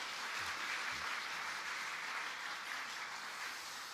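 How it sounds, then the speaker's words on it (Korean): Church congregation applauding to welcome a new member who sings in a city choir, a steady wash of clapping from a large crowd that fades slightly toward the end, with no voices over it. "큰 박수로 환영해 주시기 바랍니다."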